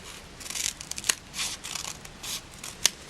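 Paper scissors snip through quilt fabric at close range, trimming along a quarter-inch line in a series of quick, crisp cuts with short pauses between strokes.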